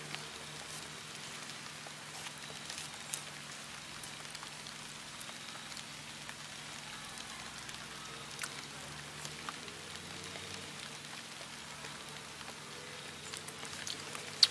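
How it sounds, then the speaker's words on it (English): Light rain patters in a backyard, a faint, steady hiss of fine drops with occasional louder ticks on nearby surfaces, continuous and calm. "Little mist of rain here in the backyard."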